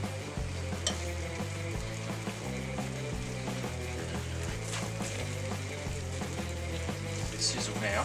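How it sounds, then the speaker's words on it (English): Bacon and egg fry on a non-stick BBQ mat with a dab of butter, a quiet steady sizzle with faint crackles and occasional scraping clicks, heard close throughout. "Bit sizzle now."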